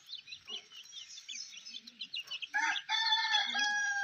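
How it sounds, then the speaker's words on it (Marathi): Native desi chickens and chicks cluck and chatter close by while eating fodder grass, in a busy, uneven stream of short calls, with a few louder squawks toward the end. "आता किती सुंदर घास खात आहेत आपल्या कोंबड्या पिल्लं"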